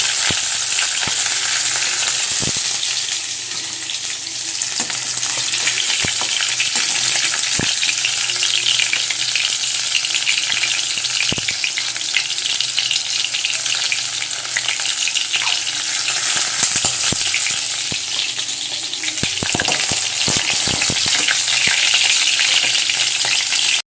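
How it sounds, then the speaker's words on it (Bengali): Continuous loud sizzling of potatoes frying in hot, darkened oil previously used for frying pointed gourd, with occasional stirring clatters and pops, close up and without talk. "তেলটা ছেঁকে ছেঁকে তুলি, কারণ এখন আলু ভাজতে হবে।"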